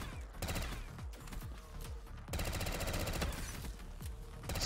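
Rapid gunfire from a Black Ops 3 custom zombies map, a dense run of loud repeated shots with a brief lull before the firing resumes and carries on to the end.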